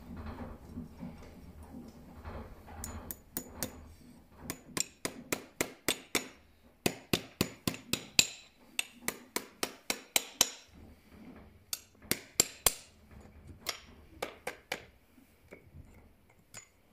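A farrier drives nails into a reining horseshoe, a long run of sharp, ringing hammer blows in quick bursts with short pauses, close and clear against a quiet workshop background.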